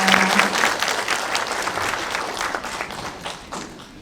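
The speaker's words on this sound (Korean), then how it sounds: "다시 한번 박수 부탁드리겠습니다." Audience applause at a Gyeongsangnam-do mental health day ceremony, a sustained wash of many hands clapping with some individual claps standing out, fairly loud throughout.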